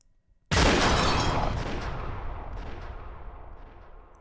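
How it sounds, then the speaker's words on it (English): A single sudden, loud gunshot blast in the video game Umineko that cracks hard and then decays into a long rumbling echo fading over several seconds. "The sound of gunfire rang out, and the world stopped."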